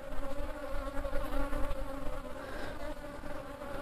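Dense honeybee buzzing around a swarming hive whose colony has gone drone-laying, a steady close hum of many insects with no voices, loud and continuous throughout.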